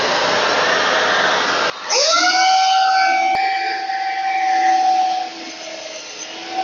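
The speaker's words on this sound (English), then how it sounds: "You're going to turn the hoover on to suck out the dust" A Trend cordless vacuum whirs up to a loud, steady whine with a droning pitch, sucking dust from a hole cut in wooden trim, running continuously after a brief burst of noise beforehand.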